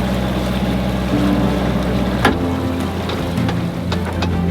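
A sailboat's engine idles in neutral, a steady low mechanical drone running continuously with a brief knock partway through, loud and close, with wind and water noise around it.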